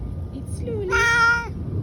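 A thin, hungry rescued black cat gives one short, close meow in the middle of quiet background noise.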